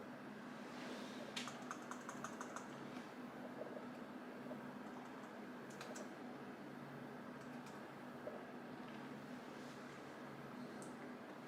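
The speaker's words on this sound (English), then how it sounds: "So can just type whatever I want here." Keystrokes clatter faintly on a computer keyboard hooked to a Raspberry Pi setup, scattered clicks over a constant low hum, with no speech.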